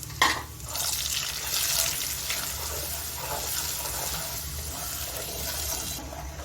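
Semolina roasting in ghee in a pan, a soft continuous sizzle with faint stirring scrapes, steady and close throughout.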